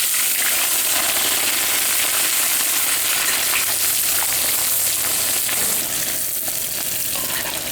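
Loud, continuous sizzling of onions frying in hot oil for Uzbek plov, a dense crackling hiss close to the microphone with occasional stirring clinks.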